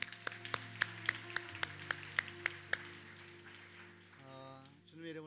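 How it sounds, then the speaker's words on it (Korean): A church congregation claps at a steady rhythmic beat over a sustained instrumental tone, and the claps fade into a softer murmur. "하나님께 감사의 박수를 드리겠습니다."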